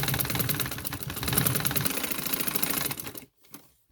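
A sewing machine runs steadily while stitching a piped neckline, a close, fast mechanical rattle for about three seconds before stopping abruptly, followed by a brief quiet handling sound.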